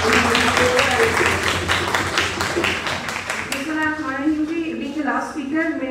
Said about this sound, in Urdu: بھرپور تالیاں بجائیے